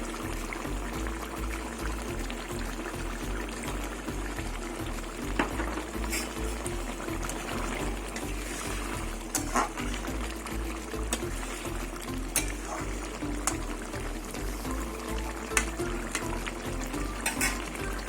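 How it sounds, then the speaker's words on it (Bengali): Bhola fish curry with poppy seed, potato and brinjal simmers in a pot as coriander leaves and raw mustard oil go in, giving a steady, close bubbling and soft frying crackle that runs evenly throughout with no voices. "এবার আমি ধনে পাতা দেবো আর নামানোর আগে একটু কাঁচা শস্যের তেল দিয়ে দেবো"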